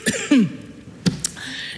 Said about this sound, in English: In order not to actually infect all of you with my cough